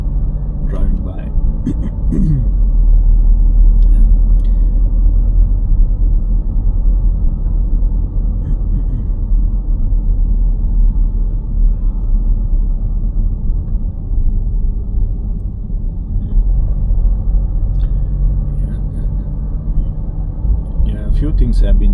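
A car driving through Darmstadt city streets, with a low, steady road and engine rumble throughout from inside the cabin, while someone talks over it.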